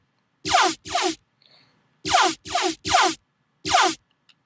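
Serum synth bass patch with all effects switched off, a dry riddim-style bass in short buzzy bursts: two notes, a gap, three notes, then one more, each cleanly cut with silence between, fairly quiet and alone.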